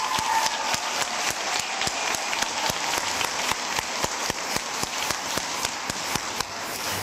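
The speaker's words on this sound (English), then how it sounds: "Let's give them a round of applause." Applause for graduating middle school students at a school graduation ceremony, a large audience clapping in a thick, continuous patter that stays steady throughout with no voices.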